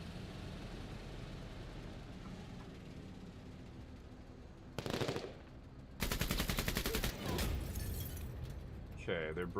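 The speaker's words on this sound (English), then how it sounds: "Autocannon team taking shots." Rapid bursts of autocannon gunfire from a strategy video game, first a short loud volley mid-clip, then a longer sustained rattling burst over a steady background of game ambience and music.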